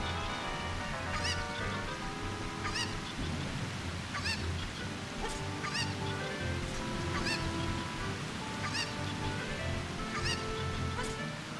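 A cucco chicken in Zelda: Ocarina of Time squawks in repeated honking clucks at a steady rhythm over a constant bed of game music.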